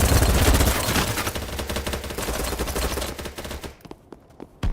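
Rapid, dense SMG fire in the shooter game Battlebit Remastered, with loud overlapping bursts for most of the stretch, then thinning to a few scattered shots near the end.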